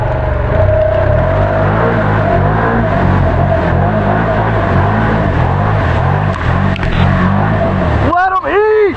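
A Can-Am Renegade XMR ATV on Aztex tires drives through a goopy mud side trail, its engine droning loud and close with shifting pitch and a sharp rev near the end.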